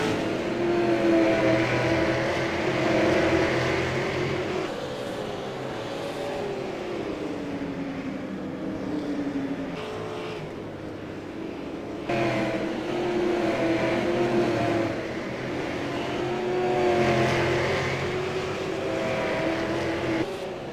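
Super Late Model stock cars racing at Stafford Speedway, a steady loud engine roar that swells and fades as cars circle the track, with no talk over it.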